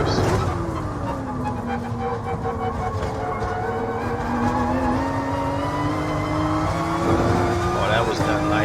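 Race car engine in Gran Turismo Sport, droning steadily and rising and falling in pitch through downshifts and acceleration on a track mission, loud and continuous with some tire noise and a voice talking over it.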